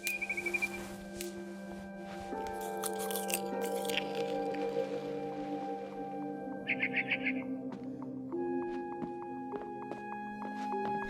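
Eating and chewing sounds in the game What Remains of Edith Finch, soft crunches and squishy bites set over a layered tonal music bed, with a brief chittering burst partway through.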